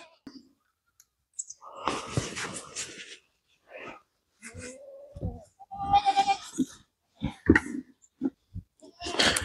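Goats on a farm in winter bleat repeatedly for fresh food, with loud, close, wavering calls overlapping in bursts, broken by short silences and a few clicks.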